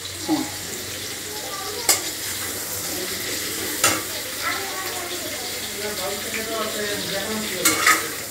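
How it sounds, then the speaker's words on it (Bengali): Pointed gourd frying in a pan for a vegetarian potato and gourd curry, a steady soft sizzle with a few sharp spatula scrapes and clinks, a faint voice in the background. "আমি পটলটা ভাজছি।"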